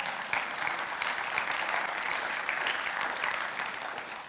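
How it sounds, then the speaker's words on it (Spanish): Steady applause from a church congregation, dense clapping holding at an even level throughout with no voices. "Dele un aplauso al Señor por eso."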